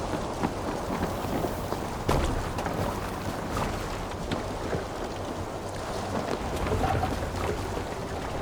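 Steady rain and rumbling storm noise at sea in Assassin's Creed Valhalla, a dense continuous wash with a few louder gusts or crashes, no talking.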